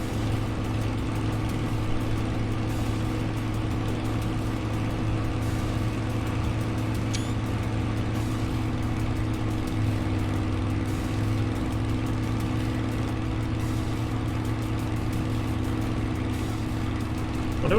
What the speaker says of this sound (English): The snarl of the prop when the canopy's open, then when you close it you just get the hum of the engine.